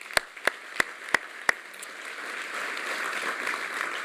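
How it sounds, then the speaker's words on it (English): Audience applause at a community charity campaign kickoff, opening with five separate sharp claps before a broad burst of clapping from the crowd swells and holds steady, fairly close and loud. "One more round of applause for them"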